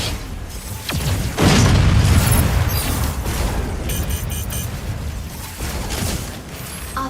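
Barrage explosions from a mech's weapons in the game Mecha BREAK, a heavy run of deep booms and rumbling blasts that swell and hold loud, with mechanical clatter and a few sharp pops scattered through.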